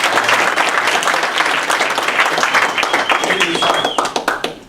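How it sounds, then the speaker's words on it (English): Audience at a local political gathering for county justice and constable candidates breaks into loud, dense applause that holds steady for several seconds, with voices calling out over it before it starts to thin. "Let's give him a round of applause."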